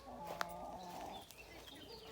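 Hens cluck softly nearby in a henhouse, a couple of brief rising calls followed by quieter murmuring against faint background noise.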